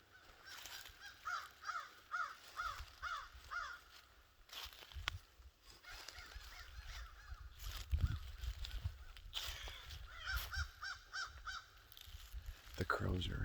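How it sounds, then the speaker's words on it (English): Crows caw in repeated harsh calls outdoors during a gun-season afternoon hunt, clustered in bursts at moderate distance with wind and rustling underneath. "The crows are active."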